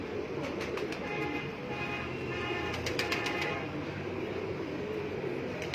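Pigeons cooing on a rooftop, soft repeated coos at moderate distance over a steady outdoor background hum, with a few sharper bird calls scattered through.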